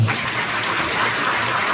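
Residents at a Bundang apartment redevelopment briefing applaud together, producing a dense, even wash of clapping that holds steady throughout, with no voices standing out.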